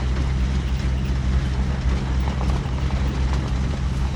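A 1978 International Scout II diesel with a turbo, its hood unlatched, drives along with a continuous loud low engine rumble and road roar that stays even throughout, with no talking.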